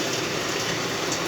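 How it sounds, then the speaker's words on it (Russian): Heavy rain falling and dripping, a dense, steady wash of noise with no breaks, close and fairly loud. "Сильный дождик."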